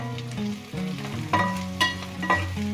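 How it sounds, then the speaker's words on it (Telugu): Onions fry with curry leaves and turmeric in a pan, giving a close, steady sizzle with a few brief stirring scrapes and clinks. "అందులోనే కొద్దిగా కరివేపాకు కొద్దిగా ఫ్రై చేసుకోవాలి."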